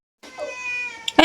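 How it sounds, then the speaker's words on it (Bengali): A cat meows once, close and fairly loud, during an outdoor home picnic with chicken being eaten, followed by a short sharp noise at the end. "এই বিড়ালটা খুব দুষ্টু, বিড়ালটাকে মারতে হবে।"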